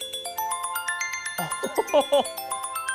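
An iOS 7 ringtone plays on an iPhone as a steady run of clear, chiming electronic tones, close and bright, while a voice briefly exclaims over the middle of the melody.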